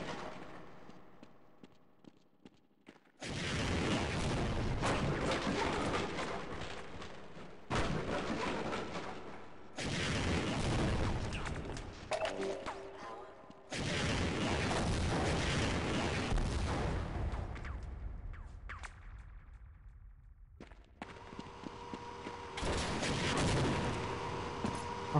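Rockets and heavy gunfire in a Half-Life firefight with the MMod mod: loud, dense sustained bursts of blasts in several long stretches separated by brief lulls, close and unbroken, with no talk.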